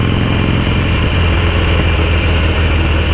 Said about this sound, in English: Loud ass Harley gearbox. Clunk.